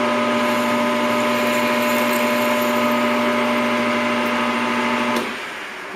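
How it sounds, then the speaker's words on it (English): Lathe cutting an aluminum bearing race for a desktop gyroscope, a loud steady whine with a constant hum from the spinning machine that cuts off and winds down near the end. "now that we got our bearing race machined"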